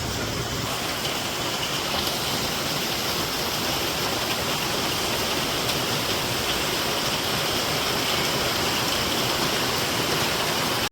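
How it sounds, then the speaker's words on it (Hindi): Heavy rain pours steadily and loudly throughout, a dense, unbroken hiss with no voices, outdoors on a wet Independence Day. "और बारिश की आवाज़ ज़रा सुनो।"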